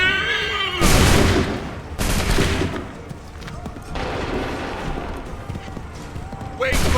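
Musket volleys crack out in an Assassin's Creed 3 battle at Bunker Hill, with several loud broadband blasts, each trailing into a rumbling echo, amid continuous battlefield din and shouting voices.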